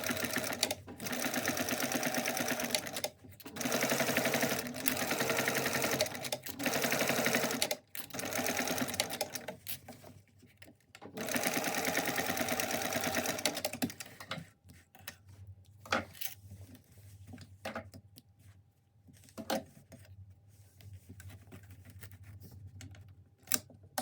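A sewing machine runs a double seam on a mini backpack in quick bursts of rapid stitching, stopping and starting with short pauses, close and fairly quiet, with light handling clicks between runs.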